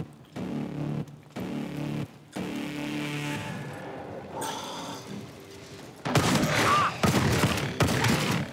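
Gunfire in Call of Duty Advanced Warfare zombies mode: bursts of rapid shots broken by short pauses, then denser, louder volleys of fire and impacts near the end.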